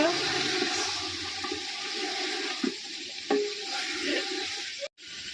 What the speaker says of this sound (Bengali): টমেটো কুচো এবার নেড়ে নেব